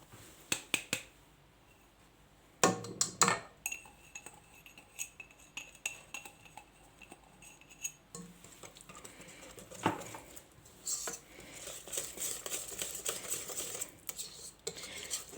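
A pizza dough mixture being stirred in a bowl, with scattered clinks and scrapes of a utensil against the bowl, some sharp taps, and irregular bursts of softer stirring noise, fairly close.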